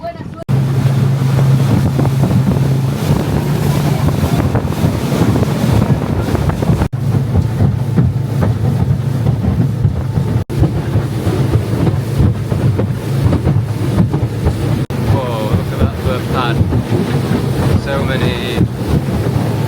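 A boat engine drones steadily and loudly on Lake Atitlan beneath rushing wind and water noise, with faint voices talking briefly over the constant rumble.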